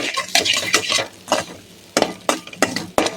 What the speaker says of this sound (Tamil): நல்லா பொன்னிறமாக கிண்டிக்குவோம்